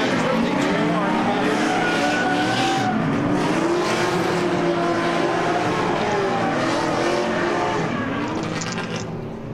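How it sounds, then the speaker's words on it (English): Drift cars race at the PBIR track with loud, continuous engine roars whose pitch rises and falls, joined by long tire squeals, close and overlapping, with voices faintly beneath. "that's what brings so much of the excitement in drifting is the noises and the different engine notes"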